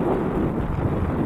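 Wind buffeting the microphone outdoors during a bike ride downtown, a loud, low, continuous rumble and roar that holds steady through the short moment.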